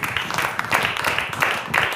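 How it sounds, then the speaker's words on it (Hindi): A church congregation claps together in a hall, steady dense applause with rhythmic surges, moderately loud and continuous. "क्या आप ताली दे सकते हैं?"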